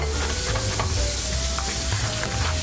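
Bacon sizzling and frying steadily in a pan, a dense continuous crackle and spatter heard up close with no voices.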